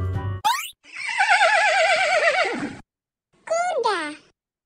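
A horse neighs in a long, loud, quavering whinny with a wavering pitch, preceded by a short sharp call and followed by another brief rising-and-falling whinny after a pause, heard close and clear.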